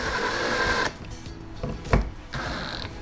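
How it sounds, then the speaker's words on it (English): Power drill driving screws to tighten down a rear spoiler wing, a close whirring motor burst that cuts off, then short intermittent buzzes and a final sustained run. "to tighten these down, you can use a drill with a bit or an Allen key"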